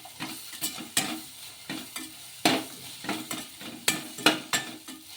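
Puffed rice mixed with chili powder and salt in a pan, stirred with a utensil in quick, irregular scrapes and clacks against the metal, close and loud, with a faint sizzle between strokes.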